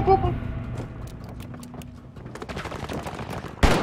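Bursts of rapid gunfire in a first-person video game, fairly distant shots crackling in clusters, with a louder blast near the end, while a player talks over it.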